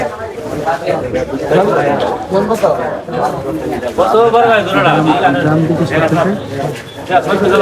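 Pigeons coo in repeated throaty bursts close by, mixed with steady overlapping talk from people nearby.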